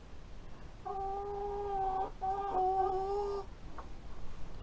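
A hen gives a drawn-out, wavering call, briefly broken off and then resumed, close by over a faint rustling background.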